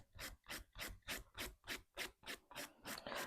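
Hand file strokes across the top of a ballerina or coffin-shaped acrylic nail, about ten steady rhythmic rasping passes, close and clear with no talk.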